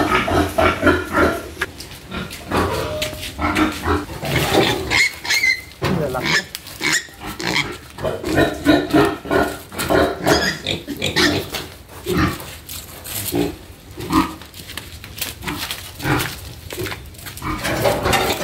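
Five piglets, roughly 15 to 20 kilos each and bought for lechon, grunt and squeal continuously in a pen, close and loud with rapid overlapping calls, while people talk in the background.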